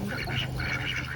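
A flock of ducks, drakes and hens together, quack in a quick, close burst of overlapping calls lasting about a second.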